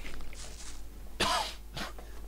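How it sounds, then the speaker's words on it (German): A person coughs during Gothic 1 gameplay commentary: one sharp, loud cough, then a softer second one, over faint background ambience. "Folgenbeginn, ich muss husten."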